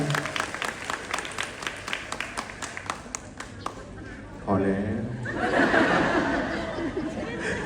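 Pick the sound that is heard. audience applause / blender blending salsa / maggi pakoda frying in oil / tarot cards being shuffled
audience applause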